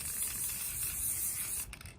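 Aerosol can spraying a coat of pink paint, a close, steady hiss lasting nearly two seconds before it cuts off into a few small clicks and rattles.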